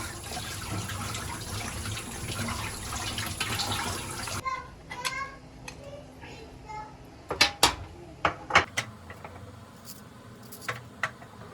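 Tap water runs steadily over potatoes being washed in a home kitchen for a few seconds, then cuts off, leaving sharp clinks of dishes and utensils with talking in between.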